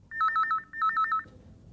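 A telephone rings with two bursts of rapid warbling electronic trills, loud and close, then stops.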